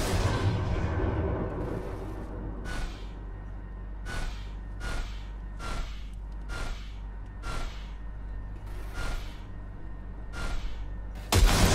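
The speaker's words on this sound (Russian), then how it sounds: "Дай по ней короткую очередь." A gun fires short bursts at a pile of rubbish, producing about nine sharp, loud cracks spaced irregularly over a low rumbling background, with no talk.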